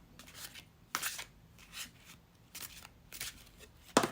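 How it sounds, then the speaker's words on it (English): Tarot cards being shuffled by hand in a quiet room, with a few separate bursts of riffling and papery slaps, the last one the sharpest and loudest, and no voices. "let's now move into our next deck and shuffle with intention."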